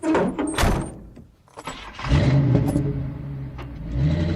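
A car engine starts and revs in a video game, loud and close, with an earlier thunk like a door shutting and a steady engine drone running through the second half.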